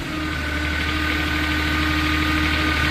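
A 2015 Moffett M8 truck-mounted forklift's engine settles into a steady, rumbling idle. The low, continuous drone with a droning mid-tone hum stays close and constant, and no one speaks over it.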